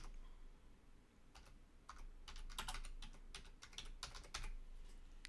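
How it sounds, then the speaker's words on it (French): Someone types on a computer keyboard in quiet surroundings, producing a quick run of soft key clicks in uneven bursts over a low background hum. "je tape YouTube, Facebook ici"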